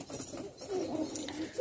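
Pigeons in a loft at the end of breeding season giving soft, low cooing calls, a couple of close, muffled coos over quiet background.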